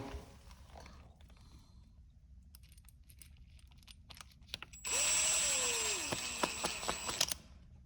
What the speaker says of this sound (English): Put it in a way I can get to it, grab my drill.